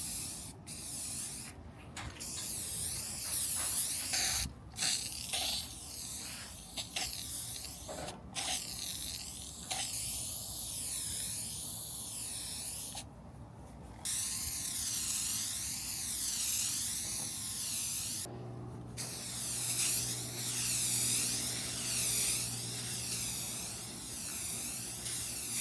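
Aerosol spray paint hissing onto homemade Harry Potter-style wands in repeated bursts of varying length, with short gaps between passes; close and fairly loud, with no talking.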